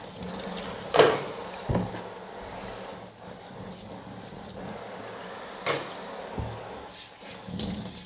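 Small ceramics tools are rinsed in a bucket of water, giving soft sloshing and trickling with a few sharper knocks and splashes scattered across the stretch, close by and fairly quiet.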